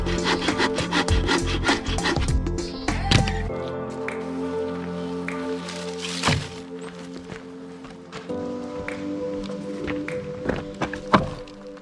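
Firewood being worked by hand in a forest camp, with scraping saw strokes and several sharp chopping knocks, close by and irregular.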